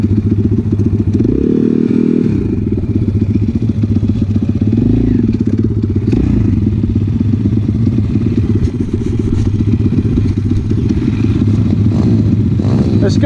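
A road legal pit bike ridden on open ground at Salisbury Plain, its small engine buzzing loud and close throughout, with bursts of revving, clattering and thuds from the bumpy ride.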